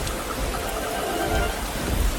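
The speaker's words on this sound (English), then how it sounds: "It starts to rain, and Peppa and George watch the drops roll d" Steady rain hissing down as a dense, even wash of noise, close and continuous with no voices.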